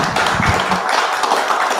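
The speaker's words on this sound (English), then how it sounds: "Can we do an applause?" Audience members at a book talk on historical mystery writing clap together in a brief, dense burst of applause close by, lasting under two seconds with no talking over it.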